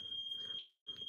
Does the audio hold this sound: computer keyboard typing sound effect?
no